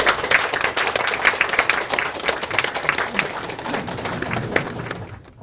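A church congregation gives warm welcoming applause for an invited honorary-doctor guest at a testimony service. The dense, steady clapping fills the room for several seconds, then fades out at the end.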